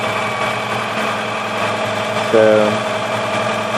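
A 1966 Volvo 122S engine idles with a steady, even mechanical hum and slight vibration, recorded close up while someone talks over it.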